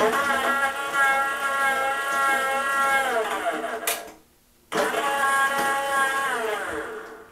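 Electric motor of a 12-volt converted John Deere 7020 pedal tractor running with a steady whine that cuts out briefly and then resumes.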